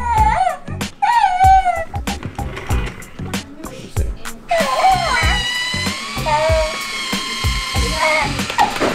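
A remote-controlled Baby Yoda (The Child) toy from The Mandalorian plays soundboard clips, a run of short warbling, cooing electronic voice sounds and squeaks, clear and close, one after another over about nine seconds.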